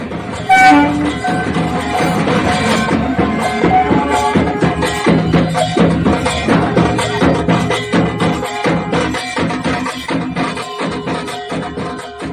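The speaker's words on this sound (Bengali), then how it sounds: "আমরা এই মুহূর্তে আপনারা দেখতে পাচ্ছেন ঠাকুরনগর স্টেশনে এলো শিলিগুড়ি থেকে স্পেশাল মতুয়া স্পেশাল" A Matua special train from Siliguri pulls into Thakurnagar station during the Baruni fair, its horn sounding among loud, continuous rail and crowd noise with steady rumbling throughout, no talking.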